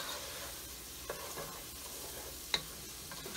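Green and red peppers being stirred into a pan of ground turkey chili, giving a steady quiet sizzle with a few faint spoon scrapes and clicks.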